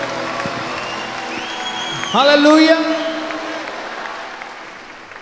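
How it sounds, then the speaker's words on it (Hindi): A congregation claps loudly at a Saturday night worship service at a Christian conference in India, the applause swelling midway and then fading while a leader's amplified voice calls out over it. "कम ऑन, जोर से ताली बजाए प्रभु की महिमा की।"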